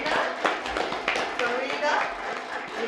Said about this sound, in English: Let's clap it Trey. up